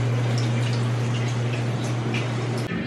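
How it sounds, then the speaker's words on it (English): Collected rainwater or wash water drips steadily on a cruise ship deck at a private island, light, close droplet taps over a constant low hum of machinery, with no talking. "Can you hear the water dripping?"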